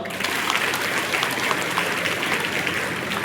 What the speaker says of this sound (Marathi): यानंतर फोटोग्राफर साठी टाळ्या वाजवा.